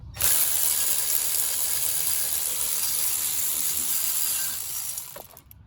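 A ratchet on a swivel extension works an alternator bolt on a 2007 Trailblazer 4.2, a continuous close, bright clicking rasp that carries on steadily before fading out at the end.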